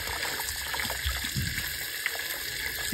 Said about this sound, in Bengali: ঘষে ঘষে ভালো করে কলের তলায় ভালো করে ধুতে হবে।